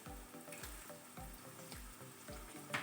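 Onions fry in a pan with whole garam masala spices such as green and black cardamom, cumin and cloves, a steady sizzle with repeated low stirring thumps at a regular pace, close and moderately loud with no voices.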